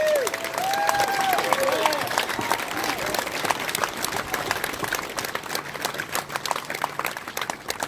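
A parade crowd applauds veterans at a Memorial Day parade in Belvidere, Illinois, with steady outdoor clapping and scattered cheers running throughout, mixed with nearby chatter and bird-like whistles.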